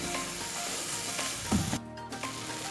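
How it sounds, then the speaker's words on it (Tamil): Masala and shredded cabbage sauté in a hot pan, a dense continuous sizzle with light stirring scrapes, close and steady, then a brief dip in the hiss near the end; no talking. "மசாலாலாம் சேர்த்துட்டு அதோட பச்சை வாசனை போகிற வரைக்கும் நம்ம வதக்கிட்டோம் ஒரு 2 நிமிஷம்"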